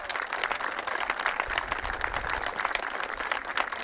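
A crowd gives steady, sustained applause at a rakfisk championship in Hallingdal, Norway, honouring the winner, with even clapping throughout and no talk.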